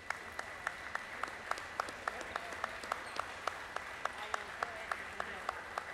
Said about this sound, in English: Gets a good hand by the crowd here